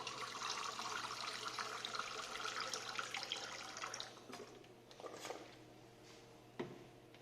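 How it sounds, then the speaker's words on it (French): Distilled water is poured into a lab solution, a faint, soft trickle that runs steadily and then thins out into a few scattered drips and small splashes near the end. "On rajoute encore de l'eau distillée."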